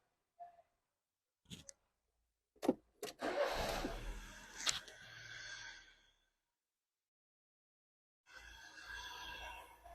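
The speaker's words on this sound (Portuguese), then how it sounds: "Então nós vamos dar partida agora" A 2006 Fiat Palio Fire 1.0 under fault diagnosis gives a few short clunks and cranking bursts, then catches into a rough run for a couple of seconds. After a pause it revs again briefly.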